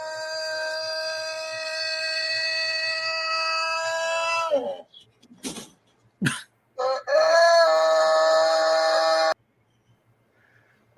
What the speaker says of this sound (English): I didn't know Tarzan had chickens